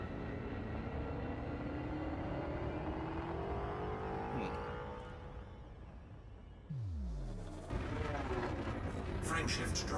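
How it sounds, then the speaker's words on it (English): A spaceship's frameshift drive charges in the space game Elite: Dangerous, a loud droning engine hum with a sweeping pitch shift that builds mid-clip and jumps louder near the end, set against steady background rumble. "Frameshift drive charging."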